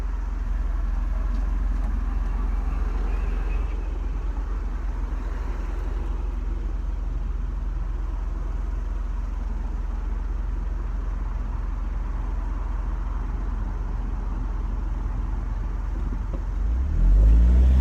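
A Mercedes SLK's engine drones steadily from inside the car while driving, a low, even hum under road noise that swells slightly at the very end as it accelerates.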